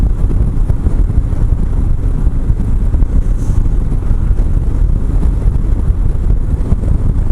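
Steady, loud wind roar buffets the microphone while riding a Harley motorcycle on a breezy road, a dense low rumble running unbroken throughout.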